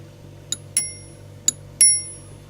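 A 1958 Tesla Czech telephone with a single bell coil gives four short, bright metallic dings in two pairs, each ringing on briefly with a clear tone, close and alone over faint background hum.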